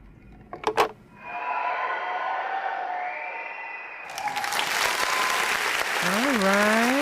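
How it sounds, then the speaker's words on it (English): At the close of a song on a radio show, the music tails off into an audience bursting into applause, a sudden, full wash of clapping that keeps going while tonal sounds sweep through it. "that song really ends with an audience clapping"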